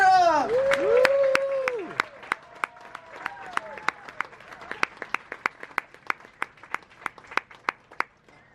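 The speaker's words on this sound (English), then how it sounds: "Please put your hands together one more time as the executive chef and his team make their way back." Aboard the P&O cruise ship Britannia, an audience claps for the executive chef and his team in a steady rhythmic beat, sharp and fairly close, following a loud voice at the start.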